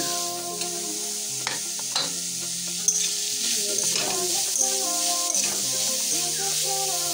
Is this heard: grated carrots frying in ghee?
yes